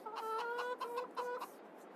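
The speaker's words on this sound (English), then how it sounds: "There's our rooster, Foghorn Leghorn." A rooster in the video game Farming Simulator 22 gives a run of clear, close clucks in quick bursts with short gaps between them, with no talking over it.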